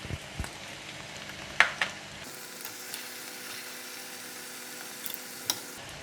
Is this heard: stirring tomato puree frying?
yes